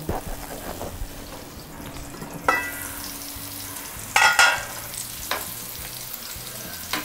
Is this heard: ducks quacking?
no